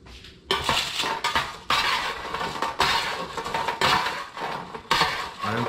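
Crispy potatoes tossed with rosemary in a pan, with loud, busy scraping and clattering of a utensil against the pan and a light sizzle underneath, close up and continuous with no talking.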